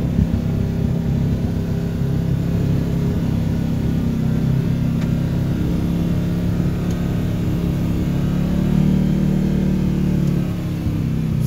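A Kawasaki Teryx KRX 1000 engine braking on a steep downhill, a loud steady low droning rumble with subtle pitch shifts, held close and constant with no speech.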